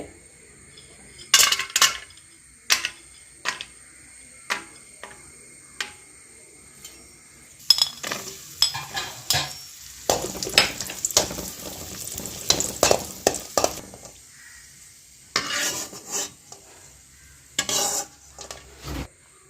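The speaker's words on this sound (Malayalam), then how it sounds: "ഇതിലേക്ക് കുറച്ച് അണ്ടിപ്പരിപ്പും മുന്തിരിങ്ങയും നമുക്കിതുകൂടെ ഒന്ന് വറുത്തെടുക്കാവേ" Ghee sizzles and crackles in a pan as cashews and raisins fry, with repeated clinks and scrapes of a spoon stirring, louder in bursts toward the end.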